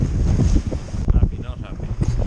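Sails flap and rustle in gusty wind aboard a sailboat, heard close in brief irregular buffets mixed with wind noise on the microphone.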